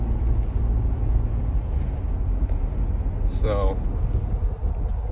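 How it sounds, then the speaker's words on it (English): Steady low wind roar and buffeting inside a moving Ford Bronco with a soft top and 2.7-liter V6 EcoBoost on 37-inch tires, continuous under a brief spoken word. "it's kind of loud in here because we've got the soft top on it. Soft top's kind of flappy and windy"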